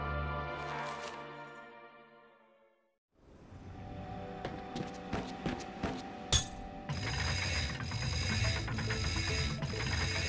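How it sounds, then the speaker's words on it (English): A bolt crank turns in the Ratchet and Clank game, heard as mechanical ratcheting clicks and gear clanks that build into a steady whirring mechanism after a fading music sting. "Now get on that bolt crank!"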